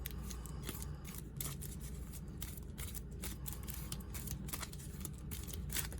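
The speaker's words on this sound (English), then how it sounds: "Shuffle this to draw the second card. It's a little difficult to shuffle" A small stack of playing cards being shuffled during a game of Villainous, a quick run of dry snapping riffles close up and steady throughout.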